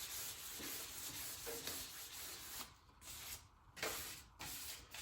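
Wet sanding the painted sheet metal of a 1980 John Deere 400 with 600 grit sandpaper: close, soft rhythmic rubbing and hissing strokes, quiet and steady with brief pauses.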